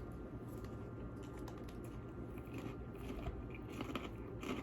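Cheese and caramel popcorn mix being chewed close to the mic, steady crunching bites continuing throughout with no talking.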